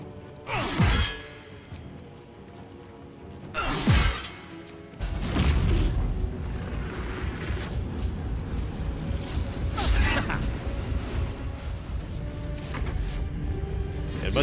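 A Baldur's Gate 3 explosion bursts through sustained game ambience, preceded by two sharp whooshing impacts, then a heavy booming blast that settles into a continuous loud rumble with further swells.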